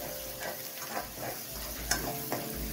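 Paneer masala gravy sautés in oil, a soft continuous sizzle broken by stirring scrapes and a couple of sharp spoon taps against the pan.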